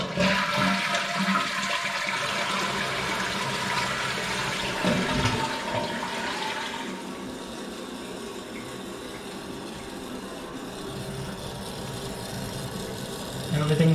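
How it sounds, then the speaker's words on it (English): A toilet tank refills through a newly repaired fill valve, a continuous loud rush and hiss of flowing water that shifts in tone midway and keeps running steadily to the end. "Okay, so the water has been filled and nothing is dripping."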